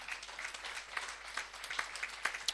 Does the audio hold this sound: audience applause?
yes